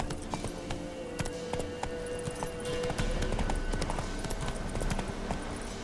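A horse gallops steadily in The Witcher 3: Wild Hunt, its rhythmic clip-clop hoofbeats loud and close over an ambient game backdrop, with no talk.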